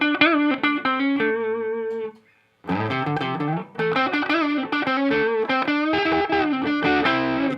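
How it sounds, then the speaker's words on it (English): An electric guitar played through an Ibanez TS9 overdrive pedal with the drive turned all the way down, giving gritty, lightly distorted chords and single-note riffs up close, with one short pause before the playing resumes. "with the ts9, even with the drive all the way down, you're adding quite a bit of clean distortion"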